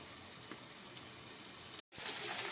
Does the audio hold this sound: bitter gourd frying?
yes